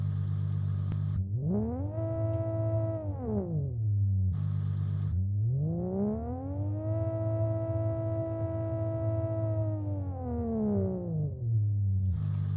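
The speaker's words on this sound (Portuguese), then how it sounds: "Você tem essa curva constante e que soa como uma reconstrução do motor" A synthesized engine tone is built by looping a constant pitch curve, rising and falling like a revving motor in two long sweeps, loud and steady, separated by brief bursts of hiss.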